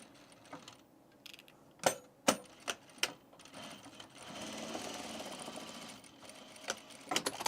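A sewing machine basting fabric for men's pants runs in a few short bursts and one longer steady stretch of stitching, with clicks and mechanical thumps between runs, fairly quiet and close.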